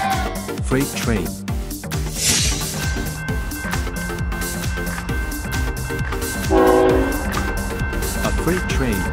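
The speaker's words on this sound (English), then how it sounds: "Freight train." A freight train rumbles past with rhythmic clanking of wagons, and a long horn blast sounds midway, loud and close, with no voices.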